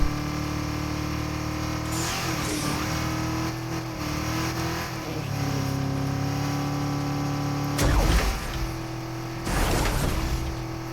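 A car engine in Fortnite Remix revs steadily throughout, with a sustained droning hum and several surging accelerations and bursts, loud and close, with no voices.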